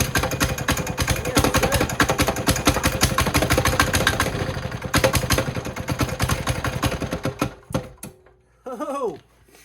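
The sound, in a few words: cheap diesel engine starting and running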